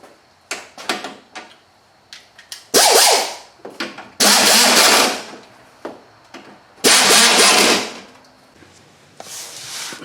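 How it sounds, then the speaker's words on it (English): A socket tool refits bolts on the radiator of a 1998 Subaru Outback, with close, loud bursts of ratcheting and metallic clatter broken by quiet gaps and sharp knocks; nobody speaks. "Get a socket to put them back in place."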